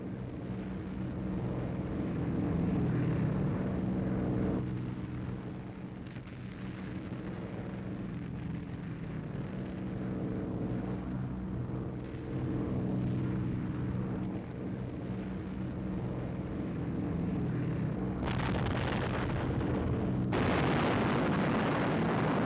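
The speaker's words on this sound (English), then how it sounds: "Bombs gone. The formation follows." A bomber formation drones steadily while its bombs burst on the target, giving a dense, rumbling wall of low booms and engine roar. Near the end it swells into a louder, harsher blast.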